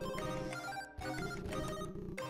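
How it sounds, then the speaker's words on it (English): Electronic telephone ringing inside the video game Heartbound, a repeated musical trill that sounds moderately close and plays alone with no talking. "The thrum of ringing phones fills the air."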